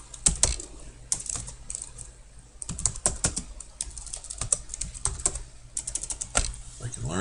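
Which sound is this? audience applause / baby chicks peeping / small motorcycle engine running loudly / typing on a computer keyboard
typing on a computer keyboard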